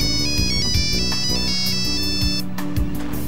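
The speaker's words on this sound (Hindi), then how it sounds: "इनके यहाँ पहुँचते इनके फोन भी शुरू।" A phone ringtone plays a loud, repeating electronic melody with a steady beat, continuing alone for a few seconds without any talk.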